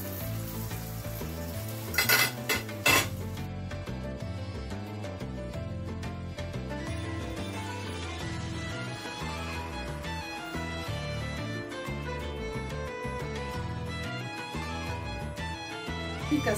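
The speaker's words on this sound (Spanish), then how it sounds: "De la misma manera, freímos lo que queda." Moroccan honey sweets fry in hot oil with a steady, close, crackling sizzle, broken early on by a couple of sharp metallic clinks of utensils against the pan.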